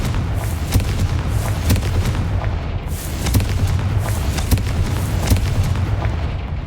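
Confringo fire spell in Hogwarts Legacy, heard as a run of deep booming blasts and sharp cracks over a low, rumbling roar that stays loud and continuous throughout.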